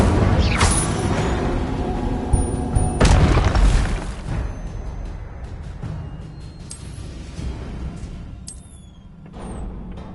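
Fiery spell blasts from an Incendio cast in a video game, with two sharp loud booms early on, then crackling bursts and rumbling that slowly fade.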